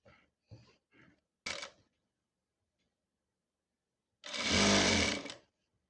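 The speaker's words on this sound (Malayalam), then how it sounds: "അടുത്തത് നമ്മൾ ഫ്രണ്ട് പീസ് എടുത്തിട്ട് ഇതിൻ്റെ പീസ് അങ്ങ് ലൈനിങ് അങ്ങ് മടക്കി അടിക്കുക." A sewing machine stitches the folded lining of a churidar front piece, a few short ticking stitch bursts followed by one longer loud run of rapid mechanical chatter, close and alone.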